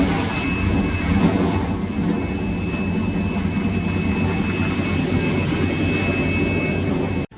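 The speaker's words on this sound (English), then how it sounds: "Drivers, start your engines!" A field of NASCAR race car engines roars at a 2023 Production Alliance Group 300 race, a loud, sustained mechanical drone with a steady high whine. It holds evenly until it cuts off abruptly at the end.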